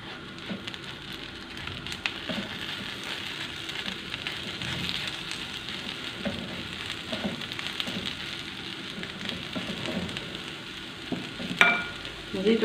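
Eggplant frying in a pan, a steady close crackling sizzle with a bit of stirring, holding evenly throughout, with a brief louder clatter near the end.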